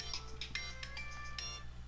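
A mobile phone alert chime plays on and on, a bright repeating electronic melody of short pulsed tones over a steady low background hum, with no talking.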